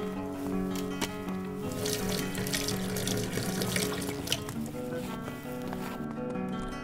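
Water running and pouring into a horse trough in the Mein Pferd video game, a steady splashing trickle like a tap filling a basin, continuous and fairly close, with no talking.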